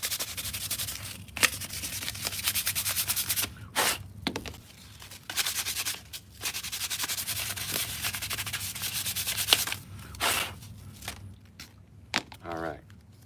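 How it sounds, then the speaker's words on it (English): A car trim piece is sanded by hand with 1000 grit sandpaper in repeated rhythmic rubbing strokes, close and moderately loud, with brief pauses between passes. "to hit it with this 1000 grit. And that'll just smooth out any imperfections"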